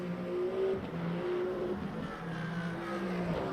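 A V8 race car engine in the Le Mans Ultimate racing game at Imola, running close and steady with rising and falling revs, with a brief run off into the gravel.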